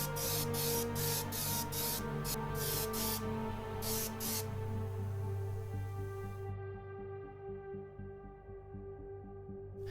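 Steel-colour spray paint going onto the body of a Tamiya 1/12 scale Kawasaki ZZR1400 model, heard as a series of short hissing bursts over a steady mechanical hum that continues alone after the spraying stops.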